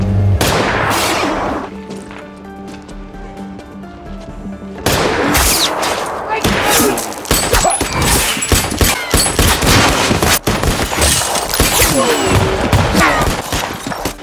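Gunfire in a post-apocalyptic film fight, a spray gun let off in bursts: dense volleys of loud, sharp shots and crashes fill the second half after a quieter musical opening, with no talk.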